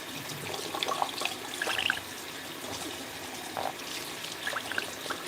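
A pet bird imitates running water with a soft, bubbly gurgling and trickling sound, coming in short bursts close by over a quiet indoor background.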